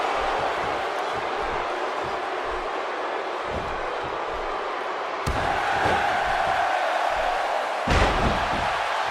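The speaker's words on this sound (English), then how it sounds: "The crowd is buzzing." Arena crowd noise from the WWE 2K16 wrestling video game, a steady broadband roar of a large audience that swells louder partway through, with a couple of sharp impact slams standing out.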